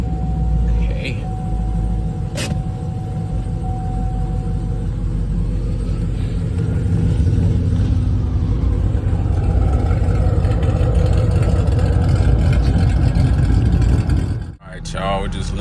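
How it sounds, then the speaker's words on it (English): A Chevrolet Camaro SS with a new exhaust setup cold starts and settles into a deep, steady rumbling idle close by, with a brief blip of noise as the engine drops off near the end. "Let's cold start with the new setup."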